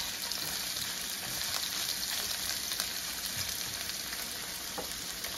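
Ruffed grouse stir fry sizzles in a hot pan with an even, continuous hiss and a few faint stirring clicks, close but fairly soft, with no speech.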